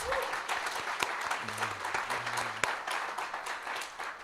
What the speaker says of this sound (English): let's give our speakers another round of applause